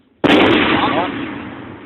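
A 120 mm mortar fires during an army drill at Lopburi: one sudden loud close blast after near silence, followed by a broad rumbling decay lasting over a second.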